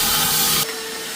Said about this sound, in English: giving the vacuum cleaner a chance to pull any loose stuff out